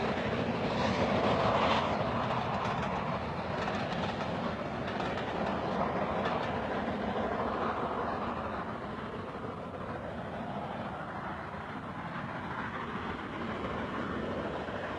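A steam train running on the Severn Valley Railway gives a steady, dense rumble and rattle that holds for the whole stretch and eases slightly in loudness partway through.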